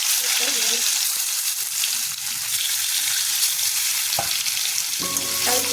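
Stuffed bitter gourds frying in hot oil in a pan, a steady, close sizzle and crackle throughout, with a few faint clinks near the end.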